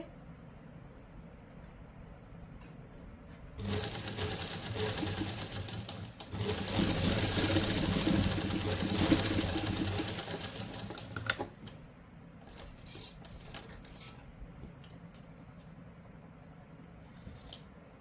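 A sewing machine stitches a simple suit or kurti in a loud continuous whirring run of several seconds, close up, with quieter handling clicks and fabric rustles before and after.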